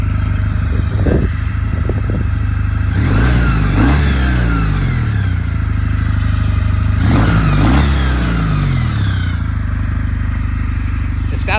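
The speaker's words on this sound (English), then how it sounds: "It's got like a nice whine to it. I don't know if it's the bevel drive making that" A new, barely broken-in 2019 Kawasaki W800 Cafe motorcycle, air-cooled parallel twin with bevel drive, revved loudly up close in two long rising sweeps over a steady idle, with a distinct whine climbing through each rev.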